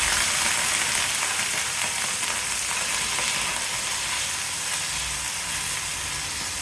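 Shallots and chopped eggplant frying in a pan, a dense, even sizzle that holds steady and loud throughout with no pauses.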